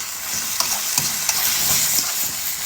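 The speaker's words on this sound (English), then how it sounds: "Gonna keep stirring. It's like kind of like a stir fry at this point." Black pepper steak stir-fried in a pan, with a steady bright sizzle broken by a few sharp scraping stirs of the spatula, close and fairly loud, no voices.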